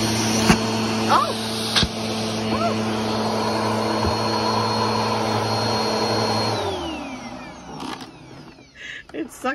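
Bissell Powerforce Helix Turbo vacuum cleaner sucking up a plastic bag, a loud steady motor whine with brief rattling pops, then winding down near the end as voices speak.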